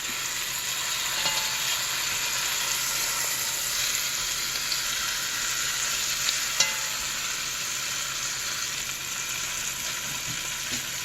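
Flour-coated chicken pieces browning in a hot pan, a steady dense sizzle close by that holds even throughout, with a few faint clicks and knocks and no talking.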